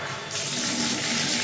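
Water gushes steadily from a bathtub spout faucet with no shower diverter, a close, continuous broadband rush that starts softer and swells to full flow after a moment.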